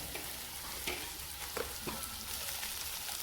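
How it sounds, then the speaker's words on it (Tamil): Onion and mashed potato masala being stirred in a pan, a faint steady sizzle with a few soft scraping taps of the spoon, no talking. "உருளைக்கிழங்க சேர்த்து நல்லா கிண்டி விட்டுக்கோங்க"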